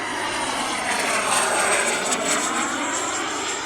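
Flyfans MiG-25 Foxbat EDF model jet in flight, a steady whooshing electric ducted fan whine with a high tonal edge, fairly close and swelling slightly as it passes, with no talking.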